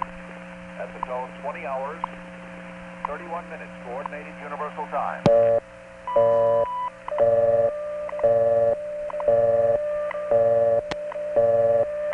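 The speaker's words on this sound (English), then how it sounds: "Watch what happens when I dial 1119." Telephone dialing tones from a 1970s phone phreaking session in New York's 914 area, heard as dialing 1119 into the exchange: a series of loud, evenly spaced multi-tone bursts following quieter radio-like chatter and steady hum.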